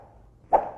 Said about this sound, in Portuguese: Já o som de pular é um pedaço de pau batendo no ar.